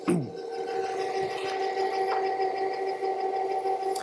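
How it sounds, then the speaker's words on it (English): Stand mixer beating cookie dough, a steady close motor whir with a constant hum and faint rubbing from the bowl, running alone without talk. "This is gonna go on the mixer, and I'm gonna go ahead and just mix this for just long enough for it to come together"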